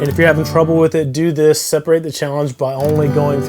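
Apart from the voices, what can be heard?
No everyday noises stand out.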